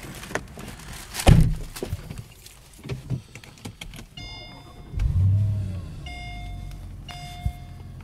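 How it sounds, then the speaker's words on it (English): A 2003 Mercedes SL55 AMG starts up close by: thunks and clicks, a deep surge as the engine catches, then a low idle under electronic warning chimes. "We'll start it up and take it for a test drive."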